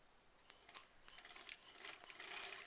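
A sewing machine quietly stitches a zipper on an embroidered koala pouch, giving short bursts of rapid needle clatter separated by brief pauses.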